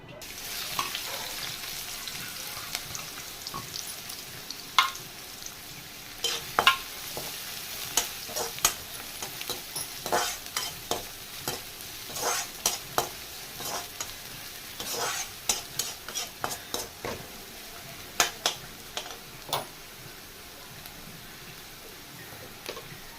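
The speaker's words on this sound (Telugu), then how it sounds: "ఇప్పుడు ఆయిల్ వేడెక్కిన తర్వాత ఉల్లిపాయలు యాడ్ చేద్దాం." Sliced onions frying in hot oil for chicken fry piece biryani, a steady close sizzle broken by frequent sharp scrapes and clinks of a spoon stirring the pan, with no talking.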